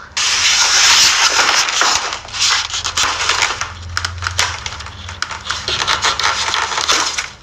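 The box of an alkaline water purifier is opened nearby, with loud cardboard rubbing, crinkling packaging and scraping in irregular bursts, and no talking.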